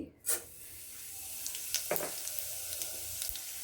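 Cumin, coriander and chana dal fry in a spoonful of hot oil with a soft, faint sizzle, opening with a brief louder burst as they hit the pan, then a few small crackles.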